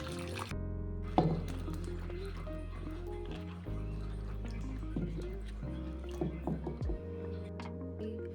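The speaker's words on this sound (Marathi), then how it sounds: "ते आपल्याला स्वच्छ धुवून घ्यायच्या आहेत" Okra is rinsed in water in a home kitchen, with soft splashing and squishy handling sounds over a steady low hum, faint and close throughout.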